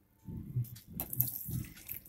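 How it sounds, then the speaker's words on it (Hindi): Warm water poured into a bowl of salt, dry yeast and sugar while preparing pizza dough at home: a short, soft splashing trickle heard close by and alone. "इसको हम थोड़ा सा गर्म पानी डाल के"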